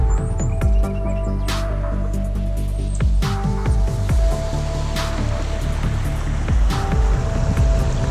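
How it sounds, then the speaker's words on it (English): Whitewater Creek rapids at the Palisades in Georgia rush in a loud, steady roar that fills the whole stretch. Bird chirps break through faintly now and then. "See the rapids in the background."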